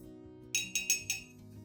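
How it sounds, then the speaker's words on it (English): A spoon knocks against a clean glass while oats are added, giving four quick, bright clinks close by over about half a second, with no talking. "Add 3 spoons of oats into the glass."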